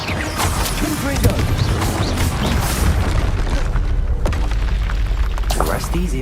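A Confringo blasting curse explodes in a Harry Potter video game, a loud booming, crashing blast set in a dense, continuous game soundscape with heavy low rumble and clattering debris.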